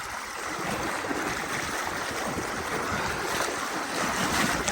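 Rushing river water during a river crossing in rainy weather, a steady broadband wash that stays loud and close without a break for the whole stretch.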